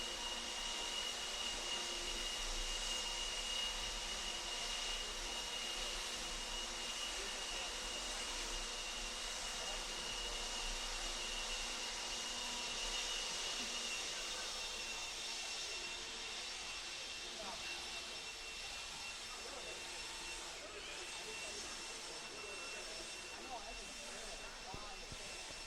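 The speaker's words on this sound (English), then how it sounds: "Marshals, grab those blowers. Start blowing off your areas." Leaf blowers run by marshals clearing a race track, a loud continuous roaring whoosh that holds steady throughout with no pauses.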